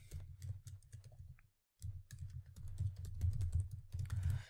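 Fingers type on a computer keyboard in rapid, dense runs of clicks with one brief silent pause, close and clear, no voices.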